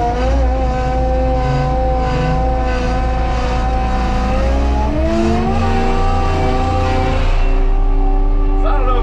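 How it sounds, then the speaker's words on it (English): A forestry mulcher head spools up at half throttle in high flow, a loud steady machine roar carrying a high-pitched whine that wavers and rises near the end. No one talks. "That high pitch whine kind of comes and goes a little bit."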